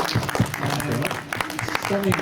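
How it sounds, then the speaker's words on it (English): A crowd applauding, a dense patter of clapping heard briefly, with a voice talking over it. "a round of applause"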